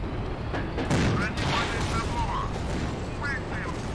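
Tank cannon and gunfire from a T-50 tank in the Steel Fury combat game, with sustained rumbling explosions and engine noise under a voice talking throughout.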